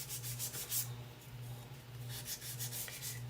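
Wood is sanded by hand in quick rubbing strokes, close and fairly loud, in repeated bursts with a steady low hum underneath.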